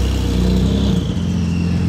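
A Porsche Turbo's engine revs loud and close, a deep throaty roar that holds steady and then eases off to a lower rumble, with a high whistle riding above it, in street traffic in Monaco.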